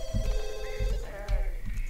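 A telephone rings in The Sims 2 video game, a loud electronic ringtone with repeated pulsing bursts in steady rhythm, heard clearly up close on its own.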